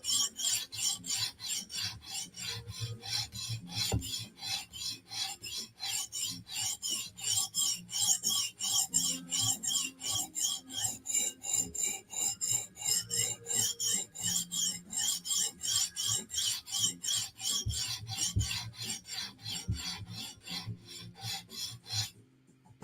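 A knife blade with no handle scraped over a sharpening stone in steady, rhythmic back-and-forth strokes, a dry rasping grind repeating quickly and evenly for over twenty seconds, fairly quiet and close, with no talking.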